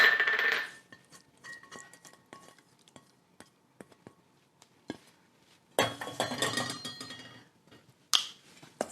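Wet muffin batter ingredients stirred in a bowl: a spoon knocks and clinks against the bowl in scattered taps, then bursts of louder scraping and mixing nearby.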